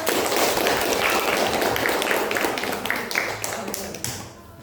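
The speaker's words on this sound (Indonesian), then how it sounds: "Kita kasih aplaus." Classroom audience applauding a presenting group, a dense burst of clapping that fades over a few seconds into scattered, sharper individual claps before trailing off.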